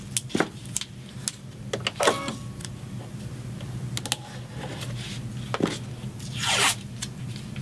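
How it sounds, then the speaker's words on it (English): Tape being torn and pressed onto fabric and stabilizer during machine embroidery of a face mask: several sharp, brief ripping and crackling bursts spaced irregularly, close and fairly quiet over a low steady hum, no talking. "But first I'm gonna put some more tape."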